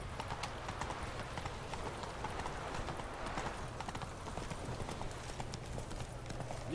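Horse hooves clip-clopping steadily in The Witcher 3: Hearts of Stone, a continuous rhythmic trot close by over a low ambient hum, with no speech.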